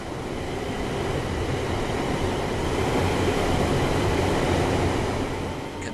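A Class 350/1 Desiro electric multiple unit train in Train Sim World 5 on the West Coast Main Line, a loud steady rolling rumble and hum of the train running continuously without speech.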